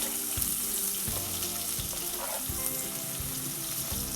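Shallots sizzle and crackle in hot oil with a constant frying hiss, occasional scraping stirs in the pan, and no talking.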